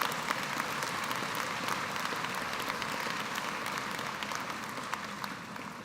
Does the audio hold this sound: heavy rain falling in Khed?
no